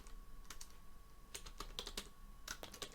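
Rapid computer keyboard typing during a Blender Python scripting session, a quick irregular run of light, close key clicks with short pauses between bursts.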